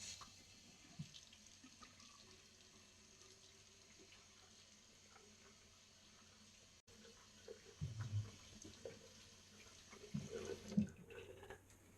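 Tap water runs steadily from a faucet into a sink while a face is wetted for a straight-razor shave, a low continuous flow with louder splashing bursts near the end.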